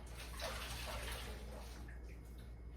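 Tap water runs into a kitchen sink for handwashing during pot roast prep, a soft steady splashing that thins out near the end.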